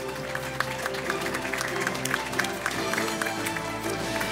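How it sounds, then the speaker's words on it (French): Audience applause at an agricultural direct-marketing awards ceremony, a steady patter of many hands clapping through the whole stretch with no talk over it. "Vous l'applaudissez, s'il vous plaît."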